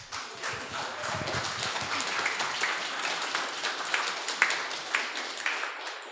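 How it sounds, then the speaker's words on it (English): A crowd at a live talk event gives a full round of applause, with dense, continuous clapping for about six seconds and a few sharper claps standing out. "So please, Dan, John, Sally, please give them a round of applause."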